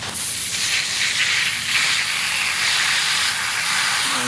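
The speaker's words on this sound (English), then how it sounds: "get the hose and rinse them out" A garden hose sprays water to rinse air filters from a 2017 Acura NSX, a steady broad hiss of flowing spray running continuously and evenly at close range, with no voices.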